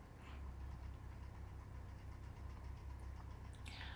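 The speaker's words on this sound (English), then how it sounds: "I apologize if you can hear that truck." A truck rumbles outside at night as a steady, low engine drone, faint and distant, with no talking.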